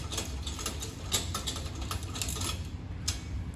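A ratchet tightens nuts on the wing slider of an outlaw kart in a workshop. It makes a rapid, continuous stream of close mechanical clicks and ratcheting with a metallic edge and no pauses.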